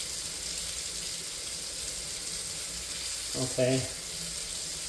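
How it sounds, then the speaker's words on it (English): Tap water running in a sink to rinse a pH probe, a steady faint hiss throughout, with a brief spoken word near the end. "So I'll take it back to my sink and run some water on it."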